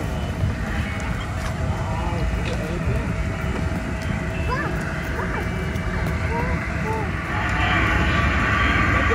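A train passes close by in an outdoor setting near tulip fields, a steady loud rumble and rolling clatter with a child's and adults' voices over it.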